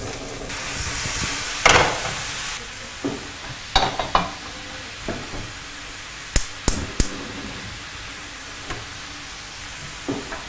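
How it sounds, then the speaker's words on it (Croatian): Button mushrooms sizzle in a hot pan while their liquid cooks off: a steady close hiss with a few sharp stirring knocks and scrapes scattered throughout. "Pržiti dok se ne reducira njihova tekućina koju će pustiti."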